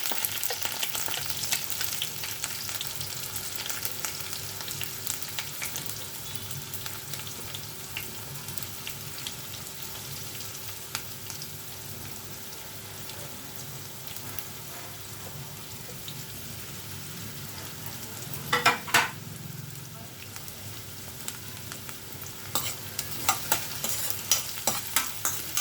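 Curry leaves and green chillies fry in oil for kanda poha, giving a continuous moderate sizzle with occasional light stirring clicks and a brief louder crackle near the end, with no talking.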